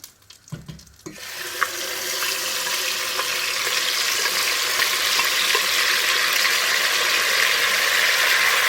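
Blended tomato and garlic poured into hot mixed palm and vegetable oil, a brief clatter and splash followed by a loud, continuous hiss of frying that stays steady and close.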